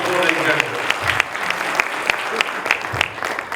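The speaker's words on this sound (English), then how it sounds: "give me a big round of applause" Seminar audience members clap at a motivational talk, a moderately dense round of applause with distinct individual claps standing out, while a voice briefly speaks over it in places.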